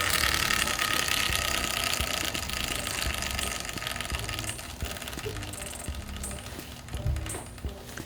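A Kawasaki Ninja motorcycle chain and upgraded sprocket spun by hand, giving a continuous clicking, ratcheting whir that slowly fades as the wheel coasts, close up, with a few brief metallic ticks near the end.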